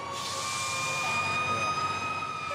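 A fire engine siren wails steadily and loudly as fire stations are alerted to a burning house, holding a sustained tone with no pauses.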